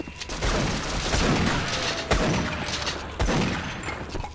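Loud bursts of gunfire from the game Half-Life in co-op play, with repeated heavy blasts near 2.1 and 3.2 seconds over dense continuous shooting, like shotgun and automatic fire in close combat.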